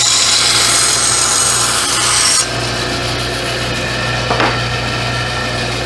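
A restored 1930s Craftsman bandsaw cuts through three-quarter inch plywood with a loud, steady rasping whine and motor hum, the cutting noise dropping off partway through as the blade clears the board.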